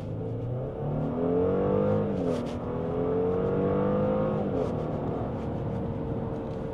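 A car engine revs and climbs in pitch as it accelerates, loud and close, with gear changes shifting the tone; no talking.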